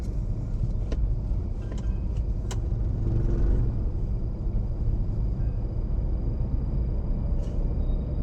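A manual car picking up speed during a driving lesson, with a steady low engine rumble and road noise from inside the cabin and a few faint clicks over it.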